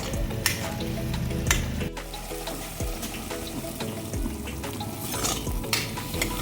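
Onion masala cooks in oil for a spicy matki usal, a close crackling sizzle with stirring scrapes, under a steady background of tonal music and no speech.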